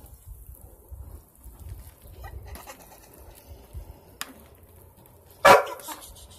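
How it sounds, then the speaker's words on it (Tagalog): A dog outdoors gives a single short, sharp bark near the end, over faint ambient noise with distant bird calls. "Yung aso ko nagagalit."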